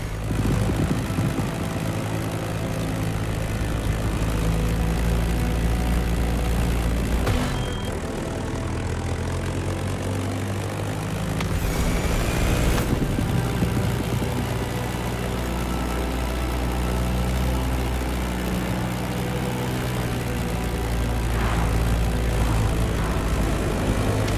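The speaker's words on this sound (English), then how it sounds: "Your plane, the Sivco Edge, will be ideal for that ride." A Sivco Edge propeller plane in the racing game The Crew Motorfest drones steadily and loudly in flight, with a constant engine and propeller roar throughout and a few brief whooshes.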